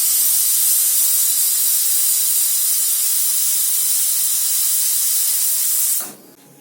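A pressure cooker cooking chana dal releases steam after whistling: a loud, steady hiss runs continuously up close for about six seconds, then cuts off abruptly.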